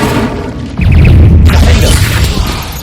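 An Incendio fire spell is cast inside a cave in the Hogwarts Legacy video game, erupting suddenly into a loud, close whooshing roar that holds steady for about two seconds.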